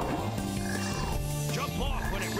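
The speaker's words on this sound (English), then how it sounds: "Another fucking frog right there." Frog croaks from the Sonic Heroes video game repeat in a steady rhythm over the game's busy background music, loud and continuous throughout.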